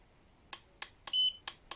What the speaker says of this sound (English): So we found out it has a beeper.